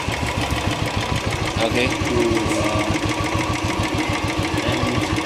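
A warmed-up Royal Enfield Classic motorcycle engine idles nearby with a steady, even thumping pulse, set up at home for an oil change, while a voice briefly speaks over the running engine.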